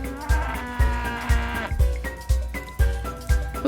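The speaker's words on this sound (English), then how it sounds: "What? A cow?" A large cow moos loudly in the farming game Sweet Country Life, its low sustained calls set over a rhythmic game music beat with no talking.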